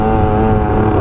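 Motorcycle riding, a loud continuous engine drone with steady low rumble and wind, heard close up for a brief moment.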